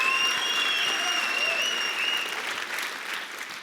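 Congregation applauding steadily through a service at Mosaic church, a dense continuous clapping from a large audience that holds loud and even before easing off slightly toward the end.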